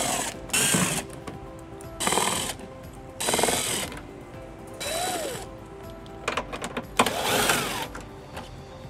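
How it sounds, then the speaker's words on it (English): A hand ratchet fitted with a 7 mm socket works the body panel bolts on a 2022 Ford Maverick during a trailer hitch install, giving several separate bursts of rapid clicking with short pauses between them, close and fairly loud. "We'll be using a 7 millimeter socket on those bolts."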